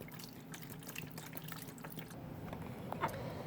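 Beef broth pours steadily into a pan of beef neck bones and potatoes, a quiet continuous liquid trickle with a faint splash near the end.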